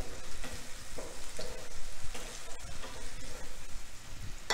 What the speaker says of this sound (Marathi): आता आलं लसणाची पेस्ट थोडीशी परतून घ्यायची आहे.